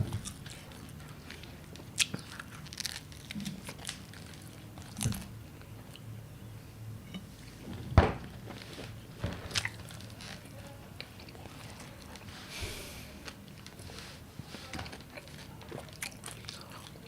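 Close, crisp bites and chewing on 2-in-1 pizza slices, with soft crunches coming in an uneven rhythm and one sharper bite standing out midway. Nobody speaks.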